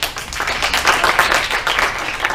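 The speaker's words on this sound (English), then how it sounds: "Clap if you know what a doll is." A crowd claps steadily and densely, a brief burst of applause with no talking.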